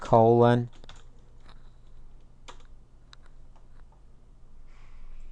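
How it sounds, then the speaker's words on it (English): Light computer keyboard typing into a text box, a few sparse soft clicks and taps under a low steady hum, following a brief burst of a voice at the start. "we type something in this text box"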